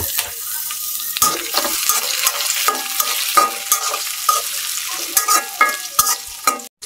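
Chopped tomato cubes hiss and sizzle in a hot pan of lightly fried ingredients for a home-style snakehead fish curry, with repeated scraping strokes of a spoon stirring close up.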